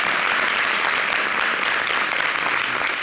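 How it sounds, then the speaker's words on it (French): Steady, full audience applause fills the space at a televised event honouring an under-20 boys' team, a dense continuous wash of many hands clapping at an even level throughout. "Ça s'applaudit, s'il vous plaît."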